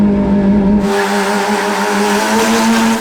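A Miata fitted with donk wheels does a burnout, its engine held at a loud, steady, droning rev with a rough, hissing tire squeal layered over the top throughout.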